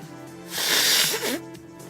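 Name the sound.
blowing nose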